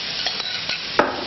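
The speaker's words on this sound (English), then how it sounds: "Next in goes the garlic and chili." Garlic and chili frying in melted butter in a pan, giving a steady soft sizzle with a few light stirring clinks and one sharper scrape near the end.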